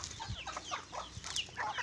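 Backyard chicks and hens clucking and peeping close by, a quick scatter of short calls over soft background noise.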